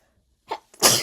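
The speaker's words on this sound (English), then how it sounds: "why am I sneezing?" A single sharp sneeze, close and loud, preceded by a brief quick inhale.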